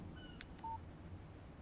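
A phone text message alert in the Alan Wake video game gives a few short, clean electronic beeps and tones over a low background hum, with no talk.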